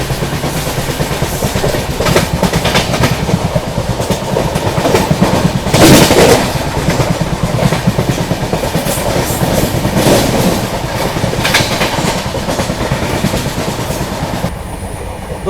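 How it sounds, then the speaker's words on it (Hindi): The Rajdhani Express runs at speed, around 100 to 110 km/h, with a loud, continuous rumble and rhythmic clickety-clack of wheels on rail joints heard from inside the train. "गाड़ी अपनी बढ़िया रफ्तार में भाग रही है भाई"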